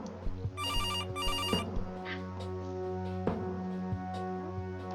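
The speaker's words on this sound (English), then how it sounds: "Our room phone. It's got an external line." Hotel room telephone rings in the video game Kathy Rain, two bright electronic ring bursts close together early on, followed by a low steady background hum with scattered soft thumps.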